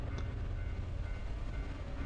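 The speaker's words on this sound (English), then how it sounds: "Right, that train sounds so close." A train rolls past close by. It makes a steady, loud low rumble with wheel clatter that holds for the whole stretch, with no voices over it.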